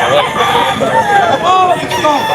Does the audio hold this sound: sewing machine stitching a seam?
no